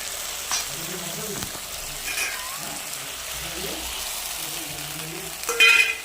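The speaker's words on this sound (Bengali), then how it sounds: "মশলাটাকে এখন ভালোভাবে কষিয়ে নেব" Spice paste for raw banana kofta frying and being stirred in a pan, a steady low sizzle with scraping strokes and a brief louder burst near the end, fairly close.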